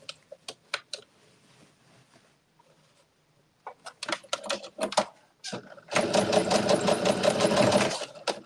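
A sewing machine back stitches at a zipper: a few short stitching bursts and clicks, a pause, then a steady, fast two-second run of close mechanical stitching.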